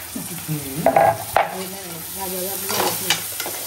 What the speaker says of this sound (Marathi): आपल्याला टोमॅटो पण सेम मस्त सॉफ्ट पेपर्यंत परतून घ्यायचं आहे